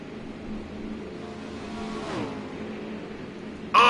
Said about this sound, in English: he's got that Chip Ganassi Chevy cranked up right now